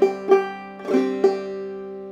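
Clawhammer banjo plays one measure of the fiddle tune "Cold Frosty Morn", a few bright plucked notes ringing over a sustained drone string, close and clear with no talking.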